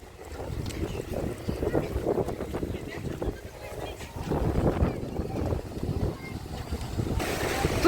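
Sea waves and gusty wind on an Odesa beach on the Black Sea coast, a continuous rough wash of surf and wind buffeting the microphone, swelling and easing at close range.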